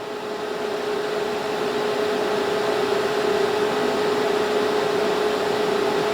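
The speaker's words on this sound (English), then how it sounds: "So I'm set for DC TIG, and I want to take the amps. I'm going to take this up to about 50 amps." DC TIG welding at about 50 amps gives a steady, even hiss with a constant buzzing hum underneath, unbroken from start to finish and with no voices.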